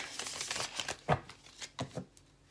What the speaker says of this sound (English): The Nine of Swords popped out right now when I was shuffling.